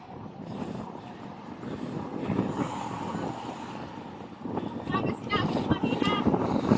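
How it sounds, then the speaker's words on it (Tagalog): Steady, rushing wind roars and buffets the microphone throughout, with a low engine-like drone beneath and faint voices in the background. "lakas ng hangin"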